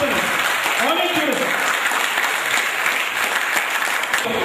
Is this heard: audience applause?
yes